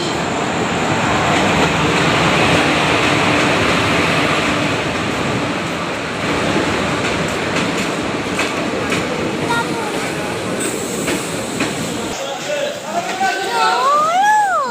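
A train rumbles loudly into a station platform with a steady roar and clatter, voices murmuring underneath, before the noise drops and a high squeal rises near the end.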